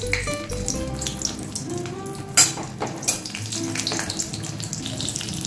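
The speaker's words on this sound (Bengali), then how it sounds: "এটা দিয়ে দিচ্ছি জিরে, দিয়ে দিচ্ছি একটা তেজপাতা, দিয়ে দিচ্ছি দুটো চেরা কাঁচা লঙ্কা" Cumin seeds, a bay leaf and two slit green chillies fry in hot oil in a Bengali kitchen, giving a steady close sizzle with faint clatter and a sharp knock partway through.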